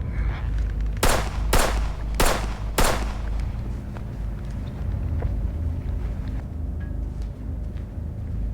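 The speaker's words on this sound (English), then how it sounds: "I'm shooting." Gunfire in a shootout, four loud sharp shots in quick succession followed by faint scattered pops under a rumbling, noisy background.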